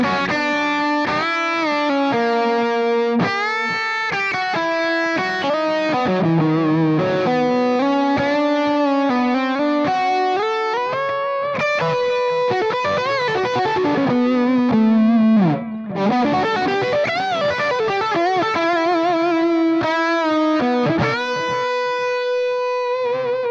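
Electric guitar through a Wampler Hot Wired v2 overdrive pedal on channel two, a thick, saturated amp-like tone playing busy country-style licks and bends, loud and steady with no voices.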